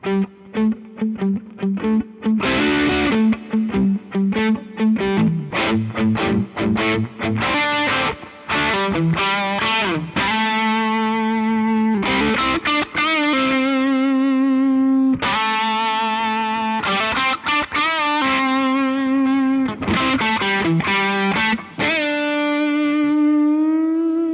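A heavily distorted 2025 Epiphone Widow Les Paul Custom electric guitar on its bridge pickup plays a lead line, sustained notes and quick runs ringing out loud and saturated with effects.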